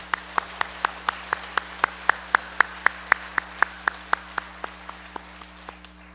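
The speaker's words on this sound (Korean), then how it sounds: "다시 한번 감사의 박수를 드리도록 하겠습니다" A church congregation claps in steady unison, about two dozen evenly spaced sharp claps that build slightly and then fade toward the end.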